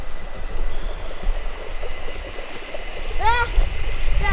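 A 4x4 sits in a creek on a bush road, with a steady rush of flowing water and a low vehicle rumble under it, then a few bright chirping bird calls near the end.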